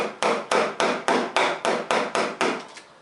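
A mallet strikes a chisel while carving out a wooden stool seat by hand, nine sharp, evenly spaced knocks ringing out clearly and alone, each fading quickly before the next.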